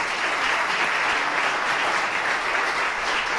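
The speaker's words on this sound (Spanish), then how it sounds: "para quien pido un fuerte aplauso" Strong, dense applause from an audience at an indoor ceremony welcoming a guest speaker, a loud continuous wash of clapping with no talk over it.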